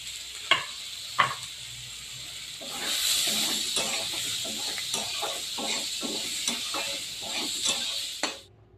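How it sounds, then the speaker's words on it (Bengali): Chopped onions hit hot mustard oil in a wok, a couple of sharp clinks before a sudden loud sizzle that settles into steady frying hiss, broken by repeated stirring scrapes, then stops abruptly. "কড়ার মধ্যে আমি একটু সরিষার তেল দিয়েছি, দিয়ে এবার পেঁয়াজ কুচিগুলোকে একটু ভেজে নেব"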